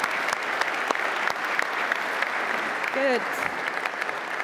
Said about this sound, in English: I would like to give a big round of applause to ICS and KDAB for their efforts in the past 3 years